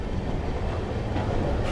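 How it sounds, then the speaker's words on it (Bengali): The Sairang–Kolkata Express rumbles through a tunnel on the Sairang–Bairabi line, a loud steady rolling roar with wheel clatter, heard from inside a carriage. "কিন্তু আমরা এখন আছি সাইরাং কলকাতা এক্সপ্রেসে"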